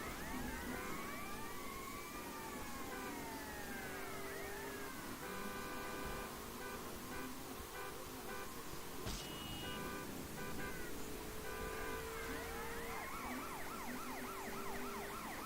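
Wailing and yelping police car sirens from GTA Vice City, sweeping steadily and loudly over a dense game soundscape of traffic engine noise and occasional horn blasts, continuous throughout with no talking.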